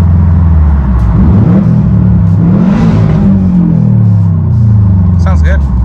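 A Subaru STI with a newly installed exhaust valve rumbles and revs loudly and continuously up close, the low drone rising and falling through several throttle blips.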